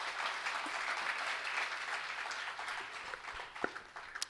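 Steady applause from an audience at a college startup summit launch event, a dense wash of clapping that slowly thins toward the end, with a few sharper individual claps standing out.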